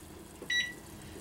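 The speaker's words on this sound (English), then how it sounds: "Set my timer for 10 minutes." A kitchen timer being set gives a single short, fairly faint electronic beep over low background noise.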